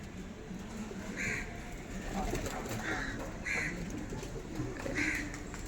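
Pigeons call from overhead near a home pigeon loft, several short bursts spaced a second or so apart over a steady background murmur.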